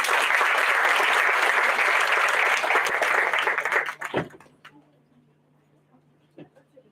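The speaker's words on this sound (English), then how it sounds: "Let's welcome Vidyadhari with a big round of applause." A big round of applause from a conference audience welcoming a guest on a national conference day: dense, steady clapping that fades out after about four seconds, leaving near silence with a faint hum and a few stray sounds.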